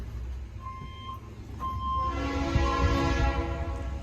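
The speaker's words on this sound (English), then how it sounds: "Ooh, there's a train." A train passing with long horn blasts over a rising rumble of wheels and cars, growing louder as it nears.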